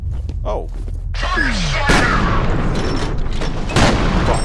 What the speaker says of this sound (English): Proximity grenades.